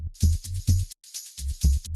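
Pumping electronic dance beat with thumping kicks and bright, hissing percussion, the sound ducking rhythmically, with a brief dropout midway.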